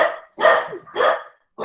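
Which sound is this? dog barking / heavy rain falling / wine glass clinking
dog barking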